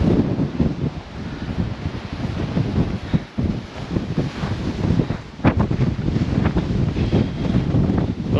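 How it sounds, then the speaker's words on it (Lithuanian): Strong outdoor wind in the Canary Islands on a cloudy, drizzly day buffets the microphone. It makes a loud, continuous low rumble with irregular gusting bursts throughout, and no one speaks. "Vėjas? Šalta tai nėra, bet vėjas."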